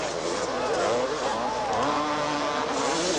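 Motocross motorcycles racing in a 1983 supercross at the Rose Bowl in Pasadena, a dense, continuous roar of engines revving and droning together, with a commentator talking over the noise.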